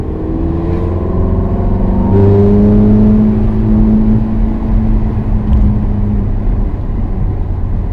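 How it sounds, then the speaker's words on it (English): Ferrari F430 Spyder with F1 gearbox driving through the streets of Nice, France, its engine a loud, steady drone that rises in pitch and swells around a gear change, continuous throughout with no talk. "It's the F430 Spyder. It's the F1 gearbox, basically."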